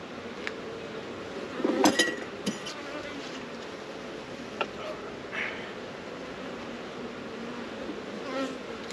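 Honeybees agitated during a solo inspection of a new hive, a continuous close buzzing hum with a few clinks of equipment and brief sharper sounds.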